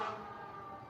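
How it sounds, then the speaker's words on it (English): Fire truck sirens sound at night just after midnight, a distant sustained wailing tone that fades slightly over a brief moment. "I don't know if you can hear the fire trucks."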